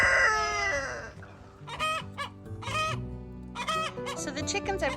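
Farmyard chickens and a rooster cluck in short bursts, with a rooster's crow near the start and repeated close clucking calls afterward over a quiet background.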